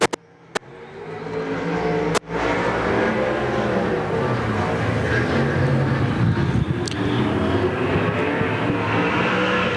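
Race cars roar around the track at Golden Triangle Raceway Park in a steady, loud engine drone that swells and holds, with a few sharp clicks near the start.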